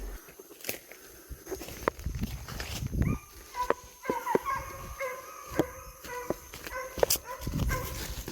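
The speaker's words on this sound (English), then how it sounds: "when they start to tree, the sound of their bark or brawl changes" Hounds treeing in woods, scattered sharp barks and bawls, some distant, with a closer dog whimpering and footsteps rustling between them.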